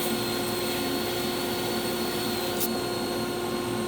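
Belt grinder with a soft platen grinding a knife blade, the piece rolled into the belt to soften a plunge line: a steady, loud, unbroken whine and rush, with a brief brighter scrape near the end.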